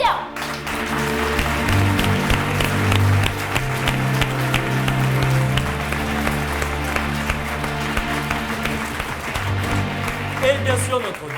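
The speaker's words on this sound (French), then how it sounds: "Le premier, on applaudit très fort, Julien." An audience at a stage show applauds a stage manager, a dense, sustained round of clapping lasting throughout, with a voice speaking over it and some music or hum underneath.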